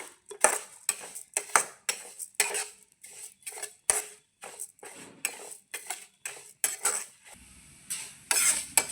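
Vermicelli is stirred while roasting in a pan, a spoon scraping and clinking against the metal in irregular bursts with brief pauses, close and fairly loud.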